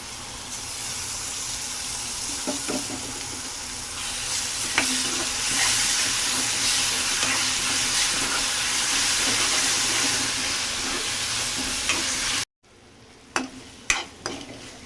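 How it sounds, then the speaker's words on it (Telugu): A masala paste of coconut, coriander, cloves, ginger and garlic fries in a pan for a ridge gourd and prawn curry. It gives a loud, steady sizzle with occasional stirring scrapes, then cuts to quieter crackling. "మసాలా కూడా బాగా వేగిపోయింది"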